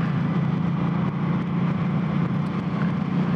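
A Suzuki M50 cruiser motorcycle engine burbles steadily in first gear at around 30 mph, a continuous low rumble with wind noise that stays loud and even throughout.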